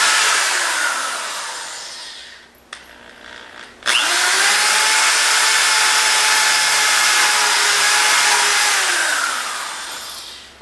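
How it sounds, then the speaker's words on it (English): A power drill whirs through wood in two bursts while building a wooden skiff: a short run fading out, a pause, then a longer, louder steady drilling. "drill those 2 holes"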